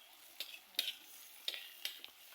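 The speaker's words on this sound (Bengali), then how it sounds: "এবার গরম তেলের মধ্যে সজনা পাতা ভাজবো আমি" Moringa leaves frying in a small amount of hot oil with garlic, chili and onion, giving soft sizzling with several sharp stirring scrapes spaced through the short stretch, close and fairly quiet with no talk.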